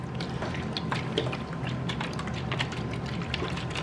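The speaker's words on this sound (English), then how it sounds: "Pour it into your water" Water pours steadily with a soft gurgling trickle and small splashes, close and fairly quiet, with no talking.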